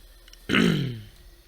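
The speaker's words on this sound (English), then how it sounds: "Excuse me, clearing my throat a little bit." One short, gravelly throat clearing from a man playing the game Astroneer, a sudden close rasp that fades over about half a second in a quiet room.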